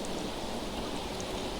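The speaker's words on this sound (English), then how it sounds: "There isn't much I can do in this rain" Steady rain pours down over a cemetery at night in the game Fault Milestone One, a dense, even hiss with fine patter and no voices.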